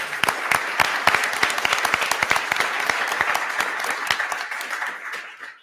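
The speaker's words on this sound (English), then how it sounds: "Can we get another round of applause for all of our entrepreneurs?" Audience applause at a startup pitch event, a dense burst of many hands clapping close and loud, sustained for several seconds before tapering off at the end.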